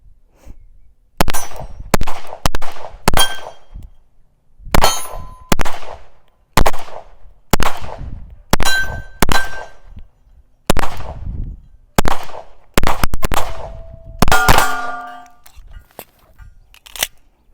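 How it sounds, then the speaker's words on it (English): Repeated pistol shots ring off 8-inch steel gongs, about a dozen sharp cracks each followed by a metallic clang, spaced roughly a second apart with a quick double hit near the end, loud and without talk. "I will shoot some of these right here, some of those gongs up there, 8-inch gongs"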